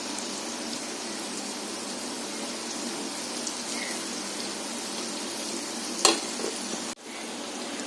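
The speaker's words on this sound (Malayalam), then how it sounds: "നമ്മുടെ കൊഞ്ചിൻ്റെ ഒരു സൈഡെല്ലാം മൂത്ത് നമുക്കിനി ഒന്ന് മറിച്ചിടാം" Prawns sizzling steadily in a hot pan for a prawn roast, a continuous frying hiss with a sharp clatter near the end as they are flipped.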